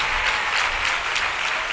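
A church congregation at a Sunday worship service claps their hands to praise God, a loud, continuous roar of many hands clapping together that fills the hall without a break.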